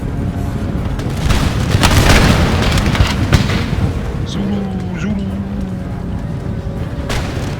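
Cannons fire in Empire: Total War, a video game, as a series of heavy booming blasts over a dense battle rumble, with speech mixed in.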